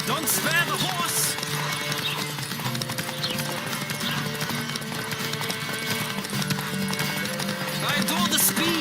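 A horse at full gallop during a Witcher video game race, its rhythmic clip-clop hooves steady and close, with occasional neighs, game music and voices layered over it.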